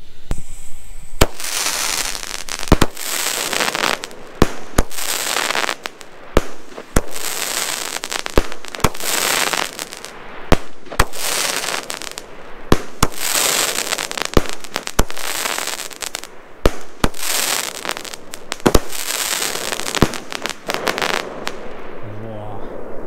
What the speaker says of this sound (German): Knisternblumen.